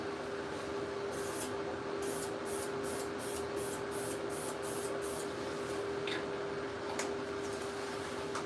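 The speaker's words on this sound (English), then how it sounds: "I'm just going to fog it on" A fog coat of chip repair finish is sprayed in a continuous, even hiss that runs close and steady from start to end, with a few faint clicks.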